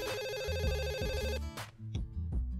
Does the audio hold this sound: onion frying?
no